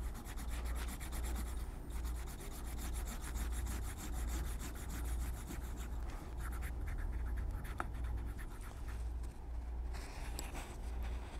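Leather straps being dampened and slicked for a saddle bag, a continuous close rubbing friction with steady back-and-forth strokes and no talking.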